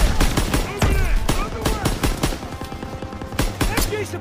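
Rapid machine gun bursts and rifle shots crack in the Call of Duty WW2 battlefield, loud and dense with distant booms, while a voice shouts over the gunfire.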